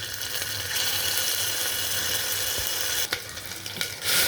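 Green chili, onion and ginger garlic paste sizzle and crackle steadily in hot oil, with a few scraping stirs of a spoon toward the end.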